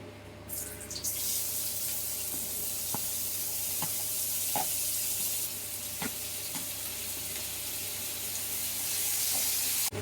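Onions and curry leaves sizzle steadily in hot oil in a home kitchen pan, a continuous frying hiss with a few sharp pops and scrapes scattered throughout, close and fairly loud, no talking.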